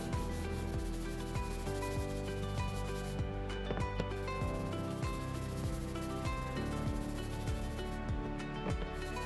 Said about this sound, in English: I'm going to sand down all of the edge grain on both sides of the cutting board.